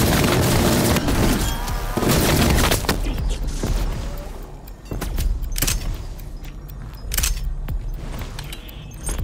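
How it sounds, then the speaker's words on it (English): Death Machine weapon in Call of Duty: Black Ops Cold War Zombies, firing loud rapid bursts with heavy booming impacts and crackling, dense game combat noise over about nine seconds, easing slightly in the middle before surging again. "Death machine going hot."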